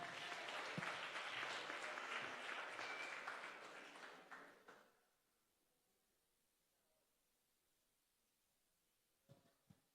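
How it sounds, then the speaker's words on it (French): A church congregation applauds loudly for about five seconds, then the clapping fades into near silence, with a couple of brief knocks near the end. "Alléluia, on applaudit très fort encore."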